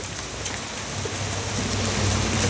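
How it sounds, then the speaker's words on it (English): Steady rain falls pretty hard outdoors on a rainy day at a building site, a continuous broadband hiss of drops on surfaces, close and even, with no voices. "But yeah, it's raining pretty good now."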